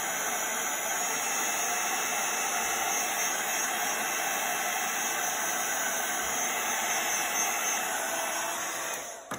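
A heat tool blows steadily on embossing powder in a craft room, a loud continuous whooshing hiss that holds for nearly the whole stretch before cutting off at the end.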